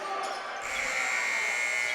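A game clock buzzer sounds at a varsity high school basketball game against Rabun Gap-Nacoochee School, starting partway through as a loud, sustained electronic tone over gym crowd noise.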